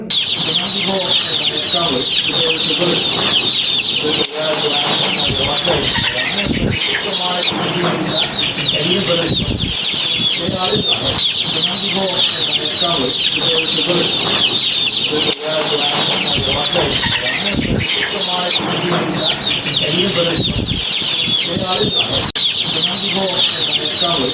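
A crowd of chickens clucks loudly and continuously close by during a distribution of hens and coops to families, with faint voices and occasional wing flaps mixed in.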